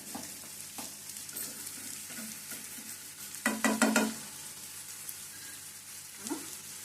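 Onion pieces fry in a pan for a fish fry of black gandu fish, a soft steady sizzle punctuated by stirring scrapes, with a louder burst of clattering stirs midway and one more near the end.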